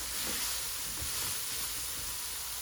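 Zucchini sizzles steadily in a hot pan during a Thai basil stir fry, a constant even hiss with no voices, close and moderately loud throughout.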